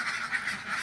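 Laying ducks call from a farm flock, a short burst of nasal honking quacks in quick succession, loud and close.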